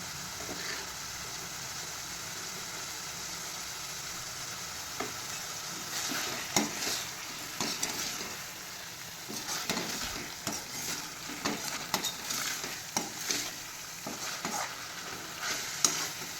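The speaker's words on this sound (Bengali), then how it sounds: "2 থেকে 3 মিনিট এই পটলগুলির সঙ্গে মশলাটাকে কষিয়ে দিন ভালো করে।" Pointed gourd being sautéed with poppy seed spice paste in a pan gives a steady low sizzle. Irregular spatula scrapes and stirring clatter come and go from about six seconds on, close and moderately loud.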